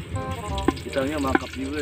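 Garlic sizzling steadily in a hot pan under a woman's chatter, with a couple of brief sharp pops.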